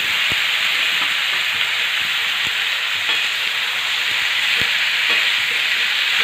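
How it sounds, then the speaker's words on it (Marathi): Pumpkin pieces and green chillies sauté in hot oil, giving a steady, loud broadband sizzle that holds evenly throughout, with a few soft clicks from stirring. "त्या पण अशा एकसारखे हलवं तेलामध्ये मस्त परतून घ्यायचे आहे"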